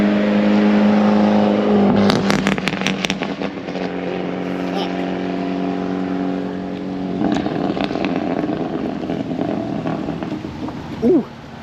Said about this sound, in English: hear that last little backfire?